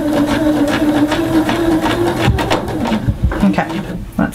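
A sewing machine stitching fabric gives off a steady, slightly odd motor hum for a couple of seconds, then falters into uneven knocks, while a person talks over it.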